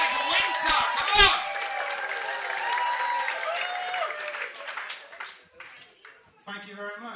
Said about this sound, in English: stamp your feet, clap your hands, woo, punch it